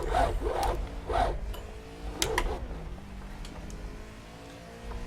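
Stock car lapping the Brno circuit in Project Cars, its engine a steady mid-level drone with a few swells as it accelerates and shifts, plus faint tyre and surface rasp, no talk over it.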